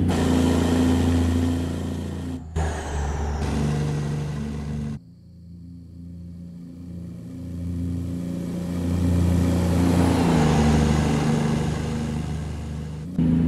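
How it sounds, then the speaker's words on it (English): A heavy Cummins NTC Big Cam diesel engine in a Kenworth W900 truck from American Truck Simulator rumbles and revs, with a brief drop to a quieter idle midway before pulling hard again. "The Cummins NTC Big Cam, a wonderful sound set indeed."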